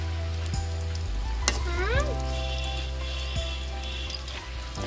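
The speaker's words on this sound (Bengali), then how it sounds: "এবার ভাজতে হয়।" Thin gaja sweets fry in hot oil in a village kitchen, a steady bubbling sizzle with a few clinks and a brief sliding tone over a low background hum.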